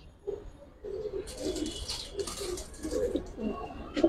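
Giribaz pigeons coo in a steady run of low, throaty calls through the whole stretch, fairly close, with higher chirps and bustle from the coop above them.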